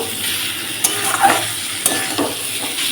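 Ground cumin and coriander paste sizzles in oil in a pan while being stirred, a steady frying hiss broken by a few sharp scrapes and clicks of the spoon, close and fairly loud, with no talking.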